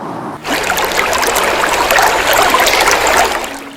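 A river stream flows steadily nearby with a broad, continuous rush of water that starts abruptly after a brief quiet moment and then stays loud and even.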